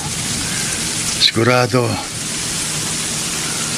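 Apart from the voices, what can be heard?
heavy rain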